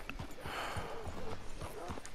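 Horse hooves clip-clopping at a walk in the video game Red Dead Redemption 2, a soft irregular series of hoofbeats under background ambience, with voices speaking over it.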